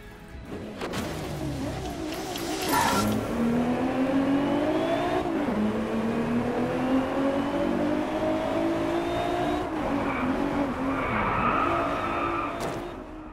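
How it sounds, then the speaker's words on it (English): A car engine revs and climbs through gears in the racing game DriveClub, with tire squeal and skidding; the loud engine tone rises, dips at each shift and rises again, close and alone with no talk. "if you prefer the mechanical symphony of a combustion engine, then that's not such a bad thing"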